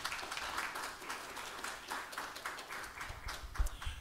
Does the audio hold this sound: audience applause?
yes